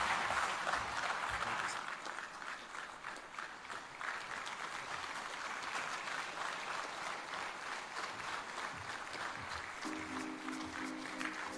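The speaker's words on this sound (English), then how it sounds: "another resounding round of applause for His Excellency President John Dramani Mahama" An audience at the APD Conference applauds after a speech by Ghana's President John Dramani Mahama, a sustained, fairly distant wash of clapping that holds steady throughout.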